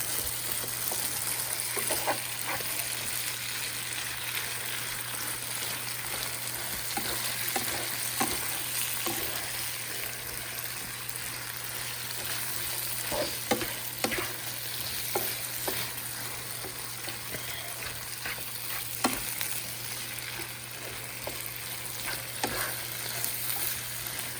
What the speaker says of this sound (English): Stir that up real good.